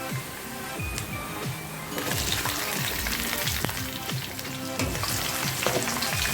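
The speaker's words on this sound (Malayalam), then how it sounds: "ഇനി ഇതിലേക്ക് 250 ഗ്രാം ചെറിയുള്ളി ചേർത്ത് കൊടുക്കാം" Shallots sizzle as they are sautéed with ginger and garlic in a pan for Kerala beef curry, a steady loud frying hiss with stirring scrapes and clatter throughout, no talk.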